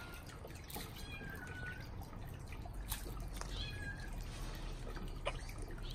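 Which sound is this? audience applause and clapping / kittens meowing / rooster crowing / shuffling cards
kittens meowing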